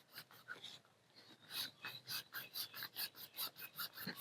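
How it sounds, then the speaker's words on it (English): A blade saws back and forth through a fat rope stick of fire tinder with its wrapper still on, a close, faint rasping in a steady rhythm of strokes that quickens and evens out. "Try to cut about another same half-inch plug."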